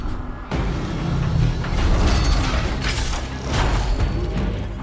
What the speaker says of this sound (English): Rotate turret!